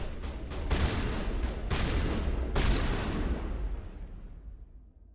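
Assault rifle fire in the video game Mass Effect: a few rapid bursts, with clusters of sharp cracks about a second apart, then a fading tail of echo. No voices are heard.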